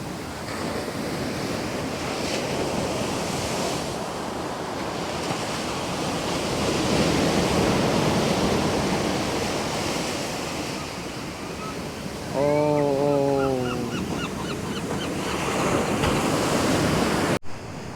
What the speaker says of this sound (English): And the waves right now are huge. It's a high tide right now.